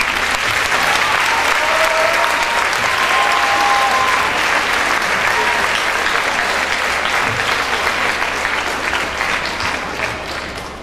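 Warm audience applause fills a concert hall in Florence, a steady dense wash of clapping from a large crowd that holds strong for about ten seconds before starting to ease off at the end.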